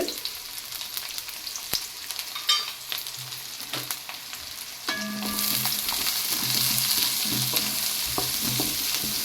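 Chopped large onion and fennel seeds fry in hot oil, scattered clinks and stirring scrapes giving way to a loud, steady sizzle in the second half.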